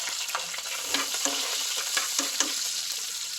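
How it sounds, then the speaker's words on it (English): Onions tipped onto toasted peppers in a hot pan, a bright crackling sizzle with repeated spatula stirs and scrapes knocking at a quick irregular rhythm, close and steady. "So now we've toasted our peppers. I'm now going to add my onions."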